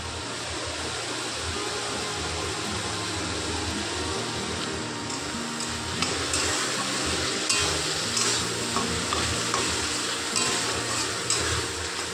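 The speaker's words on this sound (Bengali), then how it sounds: "আর এদিকে রান্না হচ্ছে খাসির মাথার ছাল।" Goat head skin fries in a pan with a continuous sizzle, along with occasional stirring and scraping of a utensil against the pan, close up and without talk.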